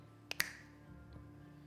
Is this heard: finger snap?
yes